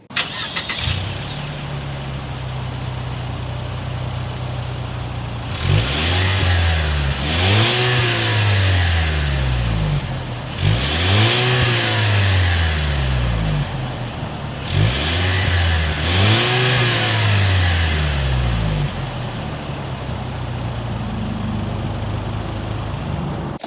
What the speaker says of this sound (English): start up this turbo so you can hear that exhaust note